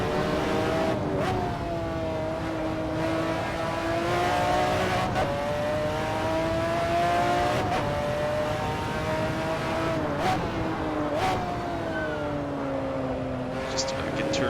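McLaren F1 GTR race car in the Assetto Corsa driving game, its engine droning loud and steady throughout, pitch rising and falling through gear changes and corners, with someone talking over it.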